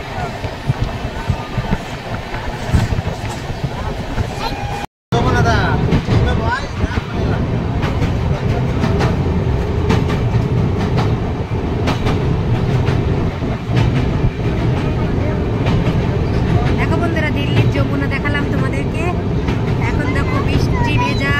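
A passenger train travelling from Delhi to Kolkata rumbles steadily on the rails from inside the carriage, a loud continuous roar with faint clacking, briefly cut off once, while voices talk underneath.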